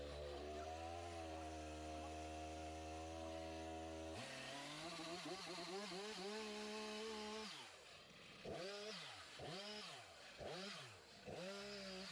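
A chainsaw idles evenly, then revs up and cuts through tree limbs, its pitch rising and dipping in several repeated swells toward the end, loud and close.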